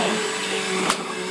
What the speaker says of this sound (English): Attack the vacuum.